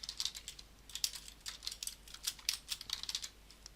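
Java code is typed on a computer keyboard in quick, irregular bursts of light clicking keystrokes, close and fairly quiet, with short pauses between runs.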